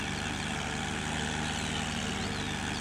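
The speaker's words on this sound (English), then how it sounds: "So this tractor is really loud compared to that harvester." Steady, loud tractor engine drone in Farming Simulator 19, a continuous low rumble with a rhythmic pulse and broad noisy hiss, unbroken and without pauses.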